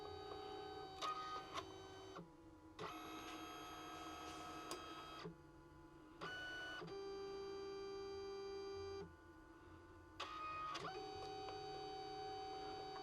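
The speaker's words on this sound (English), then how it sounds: "Now it's adding or printing magenta." A Liene PixCut S1 photo printer laying down magenta, giving sustained tonal motor whines broken by brief pauses and repeated start-stop cycles, quiet and alone without voices.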